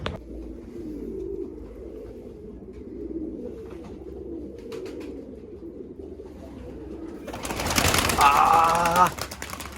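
Tumbler pigeons coo softly in low, rolling murmurs near a loft, then a loud rush of flapping wings bursts out as the flock takes off together near the end.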